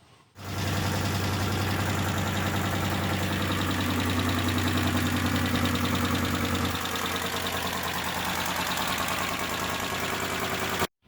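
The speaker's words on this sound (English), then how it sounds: "as soon as you started it up, you could tell it had rod knock" Ford Bronco II engine with rod knock starts and runs at a steady idle, a loud continuous drone with a fine rhythmic knocking running through it, close to the microphone, then cuts off abruptly at the end.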